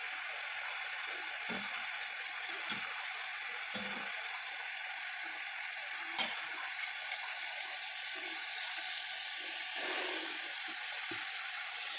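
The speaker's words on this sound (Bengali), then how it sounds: "কত আলু ভাজাটা দেখছো কত সুন্দর সাদা হচ্ছে, আর বুড়বুড় বুড়বুড় বুড়বুড় করে ফেনা হচ্ছে" Homemade potato chips fry in hot oil with a steady, soft, even sizzle and faint bubbling, broken by a few small clicks and taps, with no voices.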